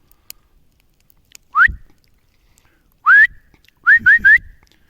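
A person whistles toward a deer in a rising, slide-up whistle heard once, then again after a pause, then three quick repeats in a row, close and sharp against near silence.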